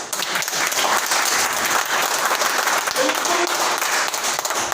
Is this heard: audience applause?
yes